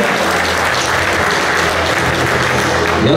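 Applause from a crowd of fans at a meeting with their football club fills the space, dense steady clapping that holds loud and even without a break.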